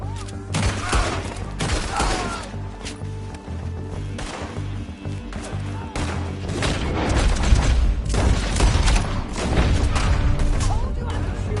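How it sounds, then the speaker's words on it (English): Repeated gunfire rings out in a Red Dead Redemption 2 shootout, with sharp shots and booming blasts in irregular bursts while voices talk over the action. "Told you I could shoot a gun, didn't I?"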